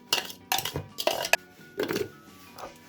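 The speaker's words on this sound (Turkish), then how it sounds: "Hemen suyla karıştıracağımız kabı alalım diğerini yapalım." A kitchen container is picked up and handled while preparing lemon and orange juice mixed with water, giving a few clinking knocks of dishware close by, with no talk.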